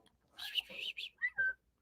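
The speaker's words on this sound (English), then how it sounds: "Do a little whisper whistle." Galah cockatoo giving a soft whisper whistle, a few short airy chirps and whistled notes in quick succession, close and quiet.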